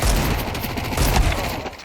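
Gunfire in Counter-Strike 2 on the map Anubis during a pro match, a loud burst of several sharp shots followed by another cluster, over steady low game rumble.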